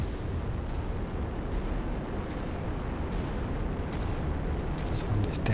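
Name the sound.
autocannon fire in the video game MechWarrior 5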